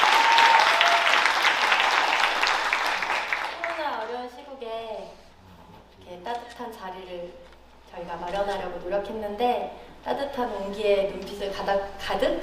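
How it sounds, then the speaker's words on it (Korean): Audience applause at a 2021 gayageum byeongchang (sung zither) ensemble concert, a loud dense burst of clapping for roughly four seconds that fades as a speaker begins talking, with speech continuing over a low hum. "박혜련 선생님부터 먼저 박수 주시고요"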